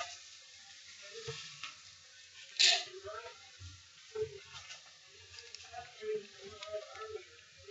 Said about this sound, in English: it's a big mistake to not heat up your coils, because you want them to burn evenly